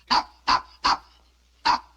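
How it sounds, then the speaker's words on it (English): Four sharp, high-pitched barks from a small dog, close by, three in quick succession and then one more after a short pause. "Stop barking at Mama."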